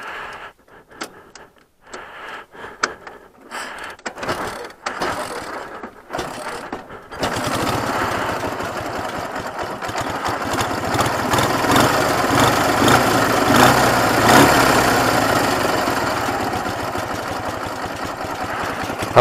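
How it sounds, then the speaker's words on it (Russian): Motorcycle under repair for poor pulling power, starting after a few sharp clicks and fiddling noises, then settling into a steady, close idle that rises slightly in level. "Давайте запустим движок."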